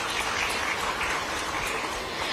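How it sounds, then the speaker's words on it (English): Audience at a Japan economic collaboration conference session giving a round of applause to welcome the managing director of Bridgestone: a brief burst of dense, crackling clapping lasting about two seconds. "So can we welcome him as well with a huge round of applause"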